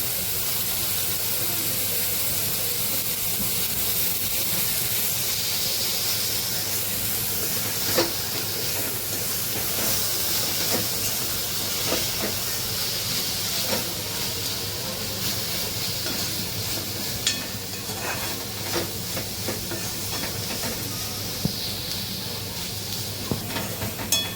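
Spices sautéing in a pan while cooking dal palak, a steady hiss and sizzle running throughout with occasional small crackles and pops, fairly loud and close.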